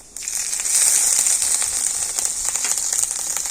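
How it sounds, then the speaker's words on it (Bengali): Grated ginger frying in hot oil with panch phoron, a loud, close, steady sizzle with crackling pops throughout. "তো তেলের উপরে আদাটাও ঠিক একটু ভালো করে ভেজে নেব"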